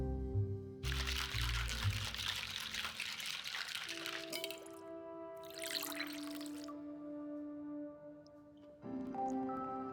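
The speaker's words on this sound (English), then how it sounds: "You know how to pour a drink with some glamour." A drink poured in a bartending murder-mystery game, Best Served Cold: a steady liquid pour and trickle over soft background music, fairly quiet, with a short chime near the end.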